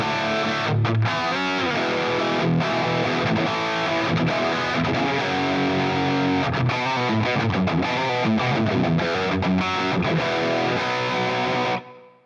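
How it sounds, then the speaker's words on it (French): Electric guitar played through a Line 6 Helix processor set to emulate a Marshall Plexi amp, a loud, continuous distorted tone with strummed chords that runs steadily for about twelve seconds before cutting off abruptly. "C'est un son qui émite un Marshall Plexi."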